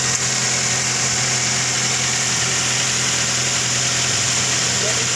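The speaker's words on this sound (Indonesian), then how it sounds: "kita hidupkan engine atau mesin, lalu kita cek level olimetiknya di dipsticknya sebelah kiri" A Daihatsu Terios with an automatic transmission, just fitted with new transmission piston seals, idles close by, giving a steady, continuous engine hum with vibration throughout.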